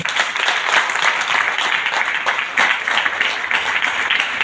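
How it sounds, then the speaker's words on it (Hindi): An audience applauds for Mr. Kishore at an AWPL Ayurveda business gathering, a steady wash of many hands clapping together. The applause stays at an even level, moderately loud and fairly close, for the whole stretch. "मैं चाहूंगा कि अब तक की जबरदस्त ताली मिस्टर किशोर सर के लिए लगना चाहिए"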